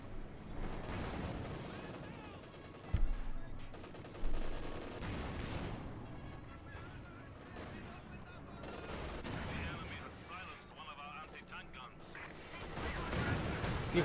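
Gunfire and anti-tank gun blasts from the video game Company of Heroes 2, with Panther tanks and Pak 44 guns engaged. Sharp booms stand out at a few points over a busy, fairly quiet battle bed, and a commentator talks throughout.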